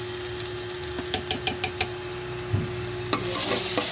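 Garlic sautéing in a pan for a mung bean dish, giving a steady sizzle with scattered stirring clicks and scrapes, growing louder and brighter toward the end.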